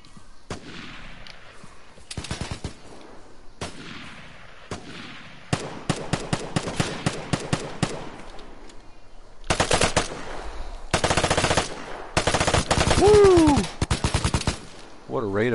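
Automatic gunfire from a Vigor match comes in rapid bursts and long sustained strings, loud and close, with sharp single cracks mixed in and brief gaps between volleys.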